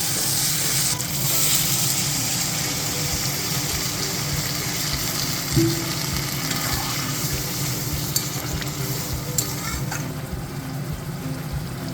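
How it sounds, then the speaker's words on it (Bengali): Water poured into a pan of spiced kochia fish curry frying in masala, giving a steady broad sizzle and bubbling with stirring scrapes and a brief clink, close and continuous without talk. "এখন আমি পরিমাণ মতো জল দিয়ে নেব"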